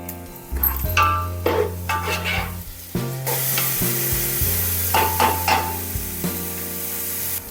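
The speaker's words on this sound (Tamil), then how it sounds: "இதோட பச்சை வாசனை போகிற வரைக்கும் நல்லா வதக்கலாம்" Onions and green chillies sautéing for a chicken biryani, a steady loud sizzle in oil with repeated scraping stirs of a spoon against the pan throughout, no talking.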